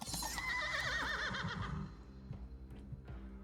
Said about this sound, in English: Otten makes his horse prance, a menacing sight.